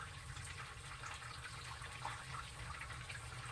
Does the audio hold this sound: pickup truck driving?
no